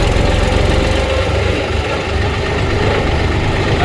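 A tractor engine runs with a loud, steady low-pitched rumble and rhythmic chugging, close and continuous with no talking over it.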